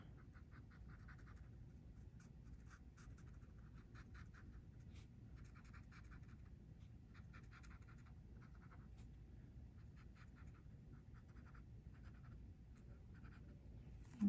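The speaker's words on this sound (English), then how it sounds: "So I'm going to use the brush tip, and I'm going to color in the word smile." A brush tip pen colors in a word on paper, making quiet, repeated scratchy strokes in short bursts, close and faint, with no talking.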